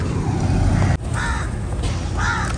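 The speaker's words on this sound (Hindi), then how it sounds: "कौवे देखे कितने इकट्ठे हो गए।" Several crows cawing together outdoors, two or three harsh caws rising over a steady background rumble of wind or traffic, fairly close and moderately loud.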